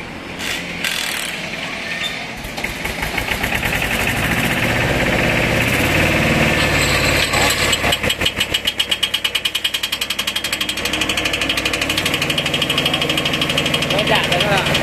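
A tractor engine drives a 1.2 m grass mulcher attachment, idling then revving into a loud mechanical churn with rhythmic rattling and knocking, close by, with someone talking over it.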